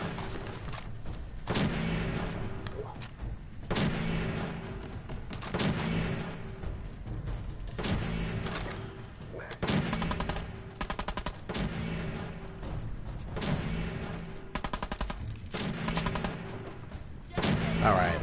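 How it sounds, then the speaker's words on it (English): Explosive-round gunfire in Fallout 4: repeated sharp, loud bursts of shots in irregular volleys across the whole stretch, with game music or ambience and some voice underneath. "we're getting explosive rounds too"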